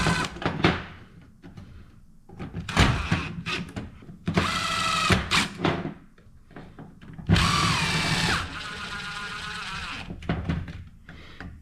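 A power drill runs in several separate bursts, driving number 10 screws into a 1967 Chevelle during a power window conversion; each whir is close and loud, with pauses between.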